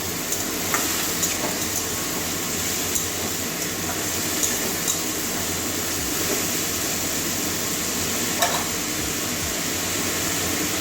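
Steady sizzling of bottle gourd with poppy seeds sautéing in a pan, with salt added, a continuous even hiss with occasional faint clinks, no talking.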